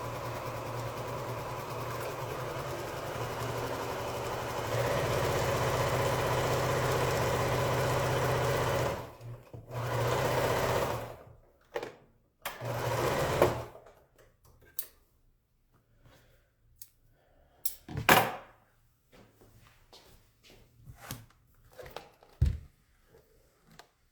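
A sewing machine stitching quilt fabric, a steady close mechanical whir for about nine seconds, then shorter bursts of stitching followed by scattered clicks, snips and handling noises.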